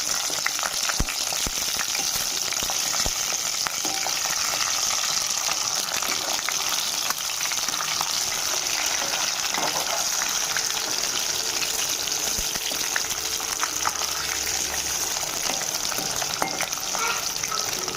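Boiled eggs fry in hot oil in a pan, giving a steady, bright sizzle with scattered pops and crackles, loud and close for a long stretch without speech.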